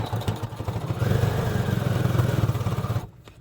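A home sewing machine stitches a dog batwing costume in a fast, steady mechanical clatter, close and fairly loud, stopping abruptly near the end.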